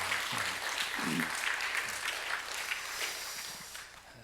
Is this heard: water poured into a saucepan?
no